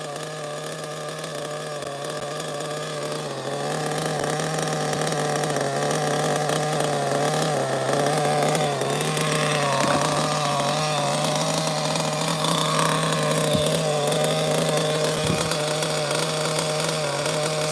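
A vintage Mugen RC car's nitro engine idles rich, a loud, continuous buzzing rattle that wavers slightly in pitch and runs without a break, close up, with no talking over it.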